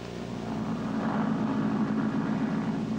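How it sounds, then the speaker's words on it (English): A plane carrying an eight-member polar expedition team lands at Resolute just before midnight, a steady broadband engine roar with low propeller drone holding evenly throughout, with no voices. "The plane carrying the 8-member Ice Walk team from the North Pole landed at Resolute"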